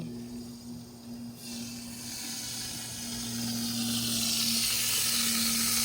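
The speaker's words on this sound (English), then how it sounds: "You can hear it sizzling." Food sizzles in a pan over a campfire at a Bathurst camp cookout, a steady frying hiss that swells and brightens over the last few seconds, with a low hum beneath and no talking.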